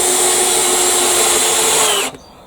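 A power drill drives screws into a wooden garden gate, its steady loud whine running close-up for about two seconds before cutting off abruptly into near-silence.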